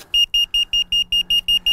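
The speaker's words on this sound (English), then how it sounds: "this is the alarm you'll get inside the car if something is going above or below your threshold" An in-car tire pressure monitoring alarm sounds as a loud series of eight rapid, evenly spaced electronic beeps, close and alone.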